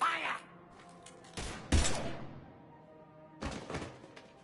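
Gunfire in Mass Effect 3, a few separate heavy bursts of shots and thuds between quieter stretches, with speech in the background.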